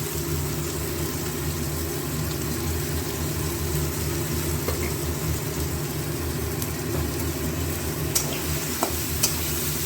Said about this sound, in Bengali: দিয়ে দেবো একটু নুন দিয়ে একটু ভাজা ভাজা করে নিই